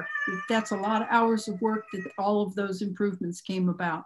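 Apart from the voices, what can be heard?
cat meowing in the background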